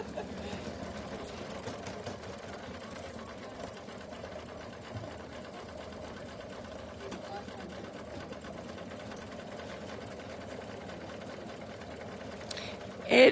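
An embroidery machine stitching out a leaves-and-stems quilt design, a steady, fast mechanical whir that hums evenly throughout, ending in a brief louder clatter.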